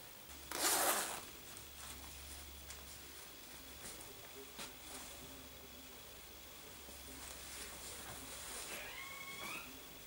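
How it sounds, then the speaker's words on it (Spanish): Recycled zipper on a hand-knitted jumper zipped in one quick, close pull near the start, followed by quiet room tone with a faint low hum. "La cremallera también es reciclada de otros jerseys que he deshecho."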